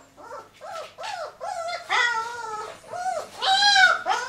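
A young puppy from a litter a few weeks old, the alpha male of the pups, lets out a run of about eight close, high whining yelps and whimpers in a steady rhythm, growing louder toward the end, with no other sound behind it.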